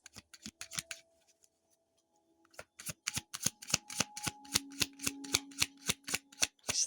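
Oracle cards are shuffled in quick riffles and rhythmic flicks, close and crisp, with a short pause before a steady run of sharp card slaps, and no talking.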